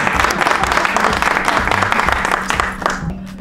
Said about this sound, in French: Applaudissements pour